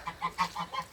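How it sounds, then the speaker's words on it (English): Several geese honk in a quick, regular series of calls, fairly close and loud, with no talking over them, as the birds come into a bird enclosure after strong gusts of wind. "The geese have come in as well."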